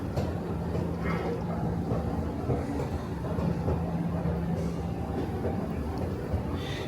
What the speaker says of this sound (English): This is a very old escalator.